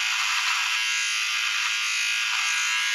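An electric razor buzzes steadily and fairly close throughout as it shaves long hair, a continuous even whine with no pauses.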